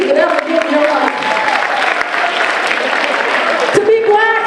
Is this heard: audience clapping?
yes